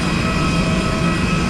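A Singapore Airlines airliner on a flight from Jakarta to Langkawi, Malaysia: a loud, steady cabin and engine roar that holds evenly, with no break, for the whole short stretch.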